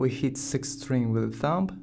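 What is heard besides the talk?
No everyday noises stand out.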